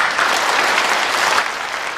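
An audience in a hall gives loud, dense applause to welcome Xie Liqiang, founder of the Liqiang Group, onto the stage, sustained and even across the whole stretch with no speech.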